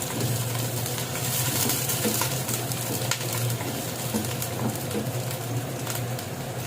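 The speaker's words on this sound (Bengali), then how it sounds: "তেলটা ভালোভাবে গরম হয়ে যাওয়ার পরে দিয়ে দিলাম হাফ কাপ পরিমাণ পেঁয়াজ কুচি আর হাফ কাপ পরিমাণ পেঁয়াজ কলি" Chopped onions and onion shoots sizzle in hot mustard oil in a wok, a steady crackling, hissing fry that goes on throughout. Faint scrapes and clinks of stirring are heard now and then.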